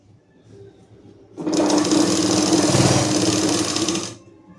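A sewing machine stitches a pleat into a patiala-style salwar, running in one steady, loud burst of about three seconds after a quiet start, then stopping abruptly.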